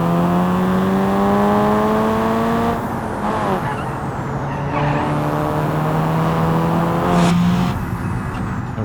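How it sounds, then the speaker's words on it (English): In a rainy BeamNG career race, a turbocharged car engine revs hard, its pitch sweeping up and down through gear changes. Turbo whistle and tire squeal ride over the steady engine drone. "This one's just not very quick at all, considering how much turbo noise there is."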